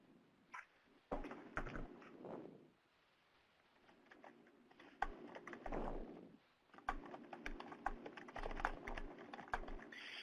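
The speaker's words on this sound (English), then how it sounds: "So we have someone typing for us already." Computer keyboard typing in short clustered bursts of clicking keystrokes, fairly faint with pauses between runs, no voices.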